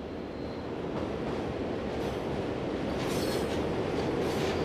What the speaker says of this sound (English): a Class 62 arrives with the morning trip freight from Hasselt to Tessenderlo